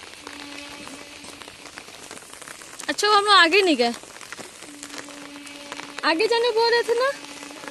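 Steady rain patters on a surface throughout, with people talking briefly over it twice.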